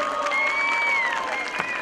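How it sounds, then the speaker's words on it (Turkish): Applause rises from a concert audience as a guest comes on stage, a dense steady clapping with a sustained tone ringing over it. "Sahnemize şöyle güçlü alkışlarla geliyor."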